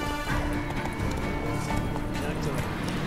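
Hooves thud at a quick gait while riding a horse in The Witcher 3, a dense continuous patter partly buried under someone talking throughout.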